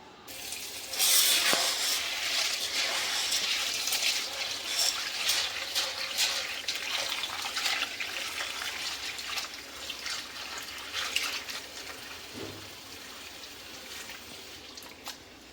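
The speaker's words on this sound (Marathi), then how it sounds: "आता हा आपण धुवून घेऊया आणि पाण्यामध्ये भिजत घालू" A kilogram of sago pearls (sabudana) rinsed by hand in water, with continuous splashing, trickling and sloshing close by and a few sharper splashes near the start, steady throughout with no talk.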